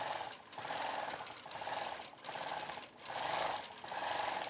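Sewing machine stitching zigzags around a pirate-themed embroidery quilt, a rapid rattling hum that comes in several pulsing bursts with brief slowdowns between them, close up and with no talking.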